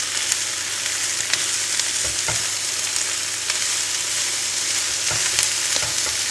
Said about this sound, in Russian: И видите, жарим на